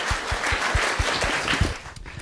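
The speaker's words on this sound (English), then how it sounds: "So if you could please start the clapping and welcome on stage Reverend Gerry Berrie" A live podcast festival audience in London claps to welcome a guest on stage, with steady rhythmic claps that thump close and loud for a couple of seconds before tapering off.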